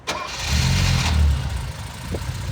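A Mercedes R107 SL engine cranks briefly and catches, swelling into a loud, close rumble that settles toward idle.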